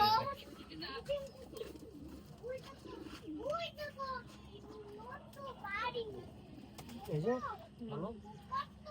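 Racing pigeons coo and murmur inside a loft, soft repeated calls rising and falling close by, while people talk over them throughout.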